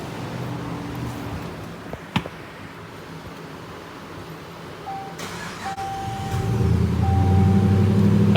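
A 2018 Dodge Charger Daytona, back together after a water pump replacement, cranks and fires up near the end, its engine rising into a loud, steady idle after a quiet stretch marked by a short electronic beep tone.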